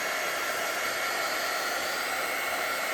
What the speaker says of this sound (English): you can go back and forth with your embossing gun, but not when you're embossing